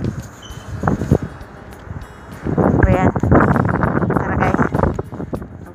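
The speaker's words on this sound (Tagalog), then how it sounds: "Mahangin sa labas." Wind gusts outdoors rumble against the microphone, swelling louder in the second half, while someone talks over it.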